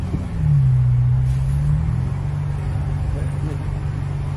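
An Audi A8 with a 4.2 litre V8 engine cruising on the road, giving a steady, loud low drone from inside the cabin that swells slightly near the start and then holds even.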